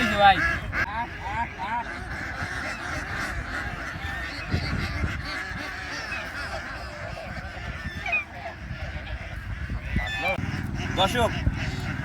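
A flock of ducks quacks and honks continuously nearby while someone talks over the noisy birds.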